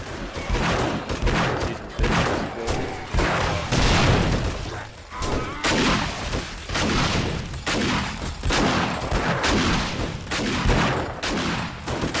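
Automated turret gunfire during a horde night in the video game 7 Days to Die, dense rapid bursts of shots and booms overlapping nonstop, with a voice speaking briefly over the barrage.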